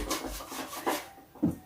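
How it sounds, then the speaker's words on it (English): Oil being rubbed onto a frying pan by hand, short soft rubbing strokes in a quiet kitchen, ending with two brief scrapes. "So I'll go ahead use the oil for my sauce, just to rub it on the pan."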